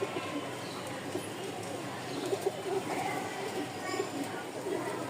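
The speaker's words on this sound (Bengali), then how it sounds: "খুব সুন্দর এক দুইটা জোড়া কবুতর" Rajshahi giribaz pigeons in pairs at a pigeon market in Mirpur-1, Dhaka, coo in soft, low, repeated bursts near and far, under someone talking throughout.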